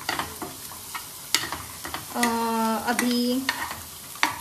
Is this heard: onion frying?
yes